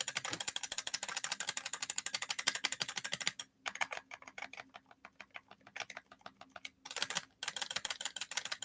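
Rapid clicking of replacement LED arcade buttons pressed on an AtGames Legends Pinball cabinet, dense rattling bursts at the start and end with sparser, quieter taps in the middle; close and crisp with no talk.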